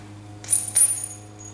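New bolts for a Ferguson TEA20 tractor restoration tossed into place, a quick pair of bright metallic clinks close by over a faint low hum.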